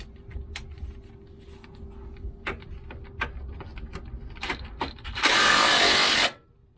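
An impact gun rattles a steering box bolt loose on a 1995 Range Rover Classic 300TDi: a loud burst of about a second after scattered clicks and clanks of tools, close up with no talking.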